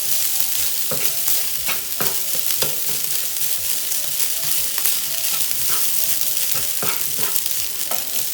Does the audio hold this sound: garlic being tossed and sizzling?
yes